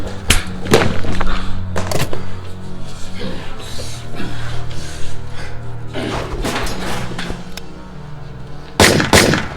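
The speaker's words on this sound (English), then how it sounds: "Why did you fire 2 shots at Mr. Robinson?" Gunshots ring out inside a house, sharp loud bangs spread across the moment among heavier thuds over a steady low background hum.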